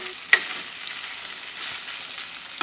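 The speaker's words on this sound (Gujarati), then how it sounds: "હળદરને ઘીમાં સાતળીએ ત્યારે એને સતત હલાવતા રહેવાનું" Grated turmeric sautéed in ghee, a steady close sizzle broken by a sharp utensil clink near the start and another near the end as it is stirred.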